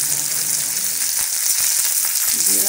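Coriander powder hits hot oil with an even, hissing sizzle, loud and close, holding steady for a few seconds with faint stirring beneath.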